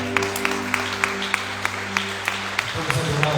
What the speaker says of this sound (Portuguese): Aplauda o Senhor no seu lugar